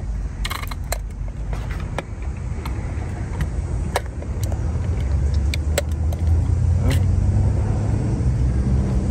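A Turo rental car being driven, with a steady low engine and road rumble that swells toward the end, scattered faint clicks and rattles, and something loose flopping against the body.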